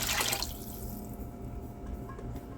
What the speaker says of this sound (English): I like to add a can of water.